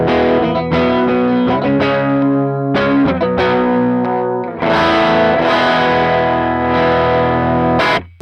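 An electric guitar on the middle pickup position, split between neck and bridge, plays sustained distorted notes and chords through effects, loud and close, with a strummed attack near the end.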